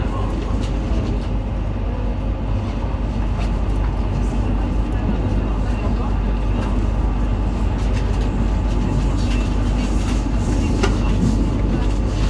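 Another train passes alongside a PKP Intercity train near Warszawa Centralna, heard from inside a first-class carriage as a continuous loud rumble and rail noise with faint rhythmic clatter and no break.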